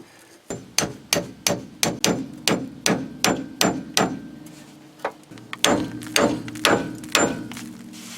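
Steady, loud hammer blows strike a pickle fork driven between steering links on a Firebird with an LS 5.3 engine swap, about sixteen sharp metallic hits at a quick even pace with a short pause midway, no talking.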